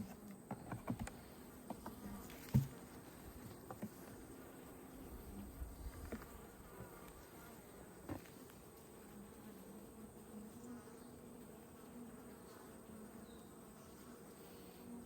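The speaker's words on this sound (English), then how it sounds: "There are some bees in here." Honeybees buzzing inside a struggling beehive nucleus, a faint low steady drone with a few soft knocks and taps near the start and no talking.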